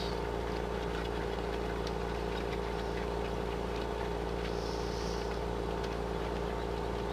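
Tractor engine in Farming Simulator 15, a steady low droning hum at constant pitch throughout, with a faint brief hiss near the middle and no speech.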